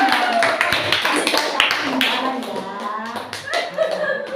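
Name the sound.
people clapping hands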